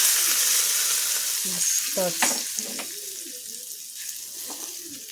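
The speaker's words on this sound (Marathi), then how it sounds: "आणि एक चमचा उडदाची डाळ हिंग कढीपत्ता हा तडका आपल्याला या चटणीवर टाकून द्यायचा आहे" Tempering of urad dal, mustard seeds, cumin, asafoetida and curry leaves sizzles steadily in hot oil, a continuous bright crackle with a few sharper pops and spatters, close and alone without talk.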